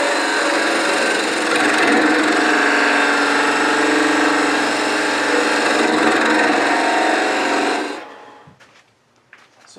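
A wood lathe spins loudly as a tenon is turned down on a small ornament finial, a steady close roar with a cutting tone that stops abruptly near the end, leaving faint clicks.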